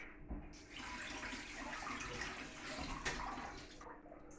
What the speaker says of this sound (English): So with just a slight bit of a rub, let's just give it a wash.